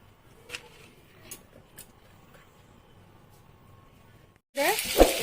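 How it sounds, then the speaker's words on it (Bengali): Pieces of paneer hit hot oil in a pan for light frying, a sudden loud sizzle and hiss bursting in at the end after quiet stretches of someone talking. "এই যে পনিরটা এখন ভাজবো হালকা করে।"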